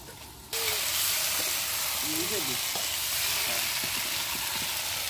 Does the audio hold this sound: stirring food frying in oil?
yes